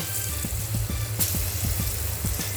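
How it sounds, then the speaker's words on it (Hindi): Paneer pieces, seasoned with salt and turmeric, frying in a pan, a steady moderate sizzle with regular soft tapping beats underneath as pieces are added or turned. "ये डाल के हम एक एक करके पनीर डाल देते हैं फ्राई करने को।"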